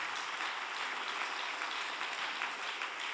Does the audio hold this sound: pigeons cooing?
no